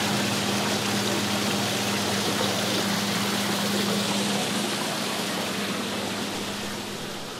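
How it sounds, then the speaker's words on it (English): A backyard waterfall roars steadily as a broad, constant rush of water, with a low mechanical hum from a sump pump draining a 300-gallon reef tank underneath that fades out partway through. "that roar that you hear is not the result of the pump, but a waterfall there in the backyard"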